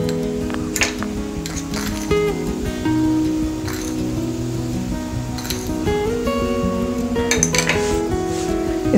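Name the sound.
mixing spices into kachori filling in a pan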